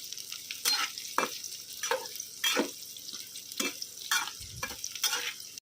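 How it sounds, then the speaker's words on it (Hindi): Bitter gourd sizzles frying in hot mustard oil while a utensil stirs and scrapes in repeated bursts, close by, with no talking. "सरसों का तेल डाल दिया था, सरसों के तेल में फ्राई करूँगी"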